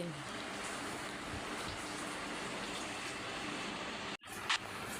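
Onions frying with ginger and garlic paste in a pan for a biryani, a steady loud sizzle running almost the whole time, with a brief cut near the end, no talking.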